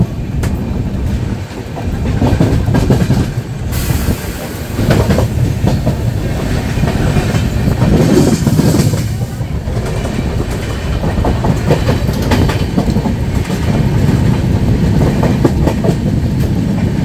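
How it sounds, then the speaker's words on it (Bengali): Aboard the Padatik Express, hauled by an electric locomotive and running at speed, the wheels beat a rhythmic clickety-clack over a constant loud rumble that swells and eases. "আমাদের ট্রেন এখন ইলেকট্রিক লোকোতে নিয়ে যাওয়ার পর ট্রেনের স্পিড দেখো"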